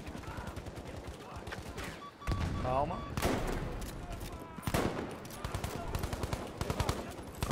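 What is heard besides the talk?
gunfire in the video game Battlefield V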